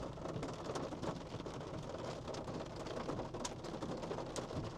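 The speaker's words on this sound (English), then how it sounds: "Got some small hail." Small hail and rain falling during a Midwest thunderstorm, a dense, steady wash of drops with scattered sharper ticks of pellets, loud and continuous with no voices.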